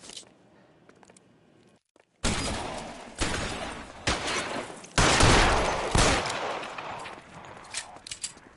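Several loud bursts of video-game gunfire come one after another at close range, the first after a quiet stretch of about two seconds. The shots are dense and repeated and run to the end.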